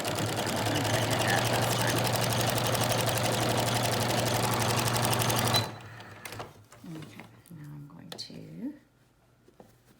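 Close and steady, a sewing machine stitches a rounded beak style washable face mask for about six seconds, then stops, leaving quiet handling noises and a soft voice.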